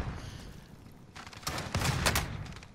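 A grenade launcher in a video game fires a short cluster of sharp, loud blasts in quick succession, over faint background noise.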